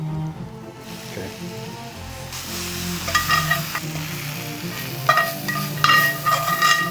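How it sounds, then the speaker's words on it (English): Greens sauté in hot oil with chili and garlic, giving a continuous close sizzle with occasional stirring clatter that grows busier as the pan is moved. "I'm just gonna saute these for like 2 minutes"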